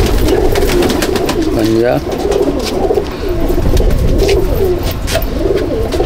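Pigeons coo in a steady, throaty warble at a top-class loft in Chandannagar, Hooghly, heard close over a busy background while people talk nearby.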